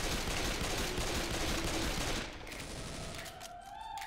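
Shotgun fire in Left 4 Dead 2, heard as a dense, rapid barrage of blasts that suddenly stops partway through and leaves only a quieter background.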